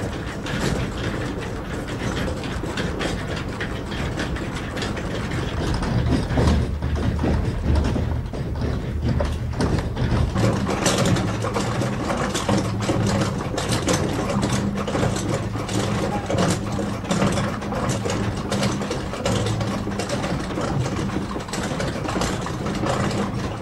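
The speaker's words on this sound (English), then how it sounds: "On the ground floor of the mill, the main drive shaft, or axle tree, gathering its power from the rushing stream" A water-powered stone mill turns on its ground floor, where the main drive shaft, or axle tree, and its gears are driven by a rushing stream. A dense, steady low mechanical rumble and grinding hum runs throughout.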